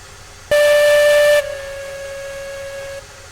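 A steam locomotive whistle in the train game Railroads Online gives one loud, steady blast of about a second, then drops to a softer sustained tone that carries on for another second and a half before cutting off.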